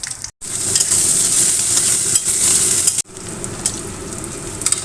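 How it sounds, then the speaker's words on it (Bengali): Onions fry in a pan for a Bengali moong dal tempered with fish head, chilli and cumin, giving a loud continuous sizzle with stirring scrapes and two short breaks. "তো পেঁয়াজটা ভালো ভাজা হয়ে গেছে"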